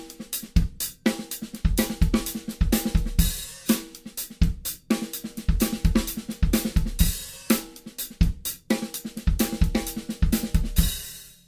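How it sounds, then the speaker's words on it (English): A fatback groove plays on a drum kit: steady, busy hi-hat or cymbal strokes over punchy kick and snare hits in a repeating syncopated funk pattern, close and alone with no talking. "his rendition of the fatback groove is one of my favorite grooves"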